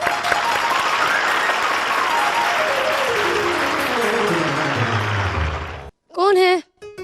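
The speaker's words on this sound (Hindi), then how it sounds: "उनके लिए तालियाँ।" Loud, dense applause from a studio audience on a television variety show fills most of the clip, then stops abruptly before a short burst of speech follows.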